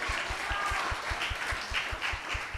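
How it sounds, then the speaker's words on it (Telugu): An audience at a church sermon breaks into applause: a dense, continuous wash of many hands clapping, fairly loud and close, lasting a couple of seconds. "చప్పట్లు కొట్టరా?"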